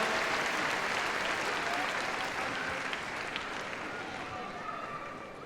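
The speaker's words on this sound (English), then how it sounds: "And a round of applause for the team." Crowd at an equestrian event applauds a team, a broad steady wash of clapping from a distance that slowly fades, with faint voices underneath.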